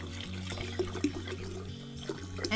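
Filtered water mixed with a little alcohol pours into a large snow globe during a repair, a steady trickling and gurgling stream under a low hum, with no talk.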